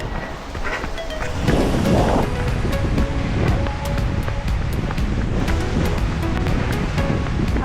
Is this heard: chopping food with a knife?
no